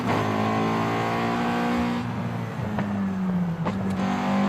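Race car engine in the Forza Horizon video game, steady loud droning and revving as the car works through a tight zigzag of turns, pitch dipping and swelling with a brief burst near the end.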